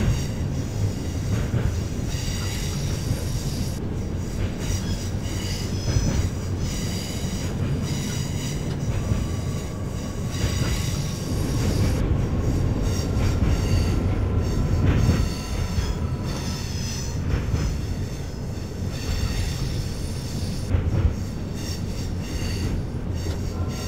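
A simulated train on the Birmingham Cross City South line runs along the track, a continuous loud rumble of wheels and motor with rhythmic clicks at rail joints and occasional faint squealing tones. No one speaks.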